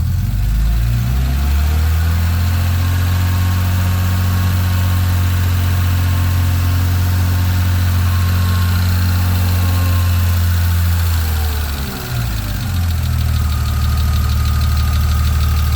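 A BMW M3 engine idles after its first start in eight months, a steady, loud rumble with some lifter ticking that holds throughout, briefly dipping once near the end.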